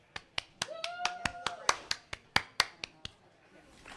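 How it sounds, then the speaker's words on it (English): About a dozen sharp, separate hand claps spaced evenly, in a small room welcoming an arriving guest, fairly quiet, with a brief voice heard early on. "Can we get a round of applause?"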